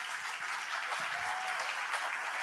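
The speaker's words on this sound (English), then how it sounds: "Let's give them a round of applause." Steady applause from an audience at a demo day honouring program challengers, a dense continuous wash of clapping that holds evenly throughout with no talking.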